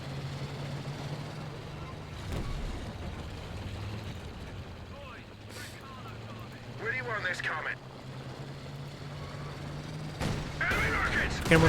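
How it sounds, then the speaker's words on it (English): Cannon fire and shell hits in the World War II strategy game Company of Heroes 2, with a Panzer IV engaged: a few sharp impacts scattered over a steady engine rumble, moderately loud, partly under a commentator's talk. "Cannon does get a good hit there, and the Panzer IV does get a good hit there as well"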